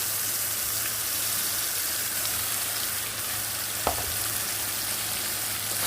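Ground ridge gourd peel paste frying in a spice tempering makes a loud, steady, close hiss like heavy rain, with one brief clink partway through and no voices.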